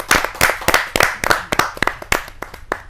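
A crowd at a Hindi poetry gathering claps to welcome a poet, a brisk run of distinct, closely spaced hand claps, loud and near, with no talking over them.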